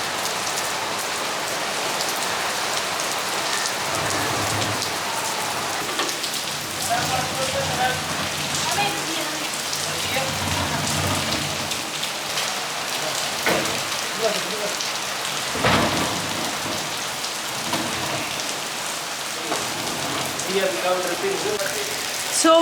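Steady rain falls outside in Pakistan, a dense, even hiss of drops on surfaces lasting throughout, with faint low rumbles and occasional nearer drips in the mix.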